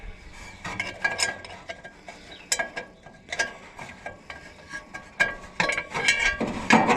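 A wrench works a bolt on the water pump of an Oliver 60 tractor, giving irregular metallic clicks and clanks that come in short bursts, close and fairly quiet.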